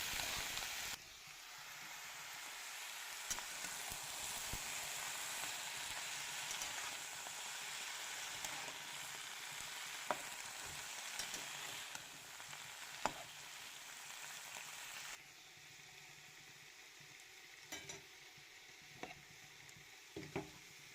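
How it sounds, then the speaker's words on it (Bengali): Vegetables sizzle steadily in a hot wok, a dense crackling hiss with occasional clicks of stirring, quieting slightly toward the end. "যে সবজিগুলো কেটে রেখেছিলাম ওইটা কড়াইয়ের মধ্যে ভেজে নেব"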